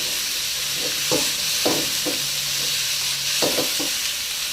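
Pork skin stir-frying in a pan with a steady loud sizzle, punctuated by several scraping clinks of a spatula against the pan.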